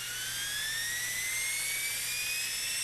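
A small model steam turbine engine spins continuously at high speed, giving a steady, shrill whine with rising tones and a faint low hum beneath, with no talking.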